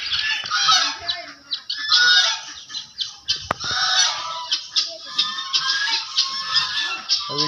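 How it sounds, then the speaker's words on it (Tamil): Guinea fowl on an organic natural farm near Thanjavur give loud, harsh, repeated calls close by. The rhythmic, grating cries overlap in a nearly continuous chatter. "அது கிண்ணி கோழின்னு சொல்லுவாங்க."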